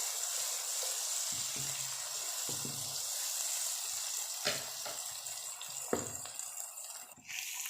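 Chopped green chillies frying with onions in a pan give a steady, close, hissing sizzle, with a few soft clinks and stirring knocks rising through it.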